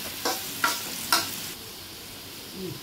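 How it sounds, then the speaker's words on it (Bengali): Chili and garlic spice paste frying in a pan sizzles steadily while a spatula scrapes and stirs in three quick strokes, then the hiss settles; no voices. "একটু নাড়া দিয়ে দিব"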